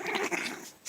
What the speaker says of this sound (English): They sound ferocious, but they're really just playing, setting up the pecking order.